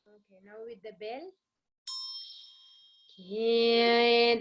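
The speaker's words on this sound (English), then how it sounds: "now with the bell" A small hand bell rings during a Buddhist chanting session, one bright sustained ding ringing out, followed by a voice resuming the chant over its fading tone; chanting is heard before it too.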